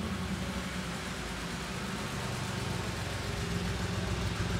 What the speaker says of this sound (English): Air-cooled Porsche.